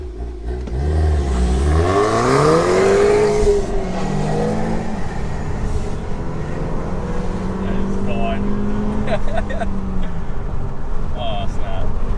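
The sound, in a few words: 2019 Toyota Camry XSE 2.5L with axle-back quad-tip exhaust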